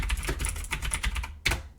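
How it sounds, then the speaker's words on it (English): A Razer mechanical keyboard being typed on, a rapid run of sharp clicky keystrokes, close and loud, ending in a brief pause and one last clack. "it is a bit on the loud side, but that's what you can expect with a mechanical keyboard"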